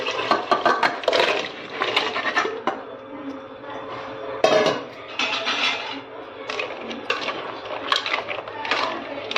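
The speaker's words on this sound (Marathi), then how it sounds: "आता हे शिजून घेतलेले खेकडे आपल्याला टाकायचे." Cooked crabs being tipped into a pot of fried masala for a spicy curry, with repeated clanks and scrapes of a utensil against the metal pot, close and fairly loud, and brief speech in between.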